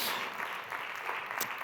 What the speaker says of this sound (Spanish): os pido un aplauso muy grande para ellos